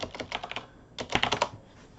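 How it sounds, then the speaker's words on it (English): Quick bursts of close key clicks on a computer keyboard, two short runs of typing split by a brief pause, with no talking. "So just type in robot picture."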